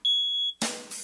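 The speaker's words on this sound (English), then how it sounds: "you're not supposed to use a smoke detector when you're done cooking the eggs" A smoke detector goes off after eggs are cooked, giving a single loud, piercing electronic beep held for about half a second, then a sudden burst of broadband noise follows.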